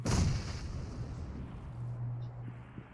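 A single deep grenade explosion in a PUBG video game booms at the start, then its rumble decays into a low hum over a few seconds.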